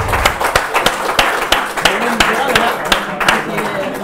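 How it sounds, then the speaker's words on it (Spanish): Audience at an Xbox FanFest Gears of War event gives a loud round of sharp, irregular clapping, with an excited voice talking over it throughout. "Un aplauso."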